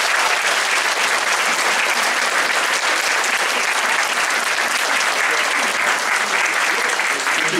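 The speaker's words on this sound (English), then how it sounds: "you might all clap vigorously for Miguel." Sustained, dense applause from a large festival audience fills the space, loud and even throughout with a steady crowd roar beneath the clapping.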